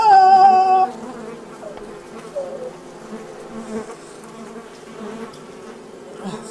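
An insect buzzes around in a scary Oculus Rift VR game, a droning hum that hovers and wavers steadily for several seconds after a brief louder tonal burst at the start.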